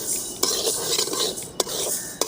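Green gram (moong) dry-roasts in a pan, heard as soft grainy rustling and stirring with a few sharp spoon-against-pan clicks, fairly quiet and close.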